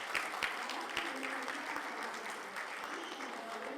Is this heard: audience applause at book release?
yes